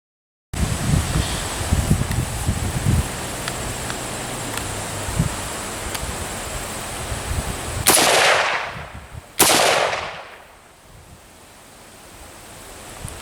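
Two sharp rifle shots from an M1A firing 150-grain soft point .308 rounds at junk targets outdoors, loud and close, each with a long rolling echo, over steady wind noise.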